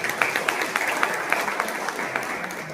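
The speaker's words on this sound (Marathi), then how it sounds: "जोरात एकदा याच्यासाठी जोरात टाळ्या वाजवल्या" Applause from an audience at a farming workshop on improved agricultural techniques, a steady patter of many hands clapping throughout, moderately loud with a faint voice underneath.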